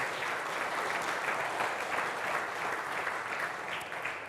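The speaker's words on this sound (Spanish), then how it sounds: "Dale un aplauso al Señor" A church congregation at a Spanish-language service claps together for the Lord, a soft, continuous wash of applause from a sizable crowd, heard from a little distance with no speech on top.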